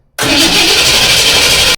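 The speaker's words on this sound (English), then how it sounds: "all I'm going to do is crank it over till I get fuel into that container" A Ford 460 V8 cranks over on the starter with the coil unhooked, a loud, steady churning drone that runs unbroken for about a second and a half, close and with no talking.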